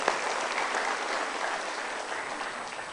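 A studio audience at a televised motivational talk show applauds steadily, a dense continuous wash of clapping with no break.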